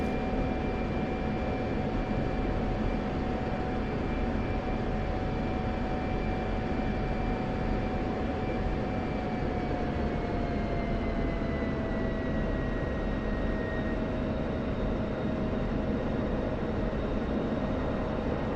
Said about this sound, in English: Compared to a Spitfire, the F-16 seems very sluggish in movement.